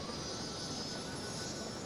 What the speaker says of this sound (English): Not really sure what brand of or manufacturer of airplane it is, if it's a Boeing or a Airbus